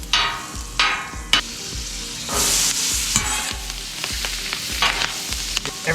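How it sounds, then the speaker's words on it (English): Vegetables sizzle and crackle loudly on a hot Camp Chef griddle, with recurring scraping and stirring strokes cutting through the steady frying hiss. "I know the sizzle's gonna get the best of me with the audio"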